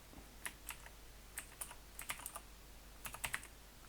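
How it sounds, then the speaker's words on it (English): Light tapping on a computer keyboard while coding, with short irregular clusters of crisp key clicks heard alone against a quiet background. "here let's just type for now GUI label"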